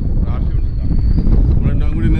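Strong wind buffets the microphone aboard a fishing boat at sea during a red snapper trip, a steady loud rumbling gust with a faint engine whine beneath it.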